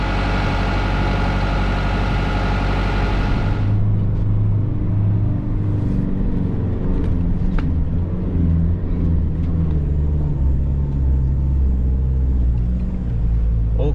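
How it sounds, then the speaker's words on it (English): Heavy low engine rumble from Phil's truck winching a 4x4 up a sandy hill on Moreton Island, loud and steady throughout, with a higher whine in the opening seconds and faint scattered clanks. "Michael getting winched up the hill by Phil's truck."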